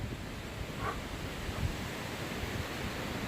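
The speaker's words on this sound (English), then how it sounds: "The wind is blowing now." Wind blows steadily through a shaded campsite near the Black Rock Cliffs, a constant close rush and rumble of gusts on the microphone, with no voices.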